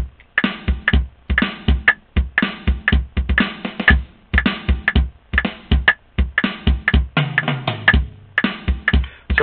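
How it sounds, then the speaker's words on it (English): Drum sounds on a MIDI keyboard played back by a computer, a dry rhythmic pattern of sharp kick and snare-like hits repeating steadily and loudly, with no voices. "the computer is telling the keyboard what notes to play, and the keyboard is set to use these drum sounds"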